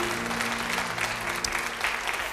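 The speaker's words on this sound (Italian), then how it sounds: "Un grande applauso." A television studio audience claps for a guest on an Italian variety show, a steady, moderately distant wash of applause with a low hum beneath it throughout.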